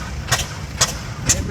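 A 1913 International Harvester Mogul gasoline tractor engine runs at a parade, giving a low steady rumble with sharp periodic exhaust pops about every half second, moderately near.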